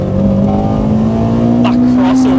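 A Honda Integra Type R DC5 with a short shifter accelerates hard on an open road, its engine note climbing steadily and loud and close from inside the car, with brief voice sounds near the end.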